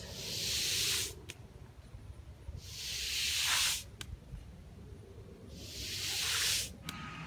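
A brush spreads sealer across an asphalt driveway in three long, even scraping sweeps, each a steady loud hiss that swells and then cuts off, with brief knocks and quiet gaps between strokes.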